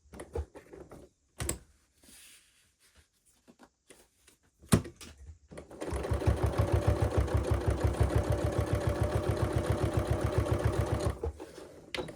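A sewing machine stitches a seam on a Regency-era dress, running in a steady, fast mechanical rhythm for about five seconds after a few scattered handling clicks and knocks, loud and close with no talk.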